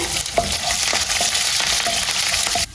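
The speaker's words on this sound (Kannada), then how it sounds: "ಮತ್ತು ಸ್ವಲ್ಪ ಫ್ರೈ ಆದಮೇಲೆ ಕರಿಬೇವು ಹಾಕೋಣ. ಇದು ಒಂದು ಸ್ವಲ್ಪ ಫ್ರೈ ಆಗಲಿ." Curry leaves and dried chillies fry in hot oil with a loud, steady crackling sizzle and a few sharp pops, with no voices heard.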